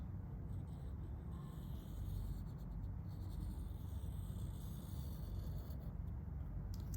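A compass's pencil leg scraping and rubbing across paper in a steady, continuous scratch while drawing circular arcs, close to the listener and alone without any voice.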